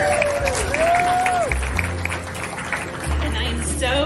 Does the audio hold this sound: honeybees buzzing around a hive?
no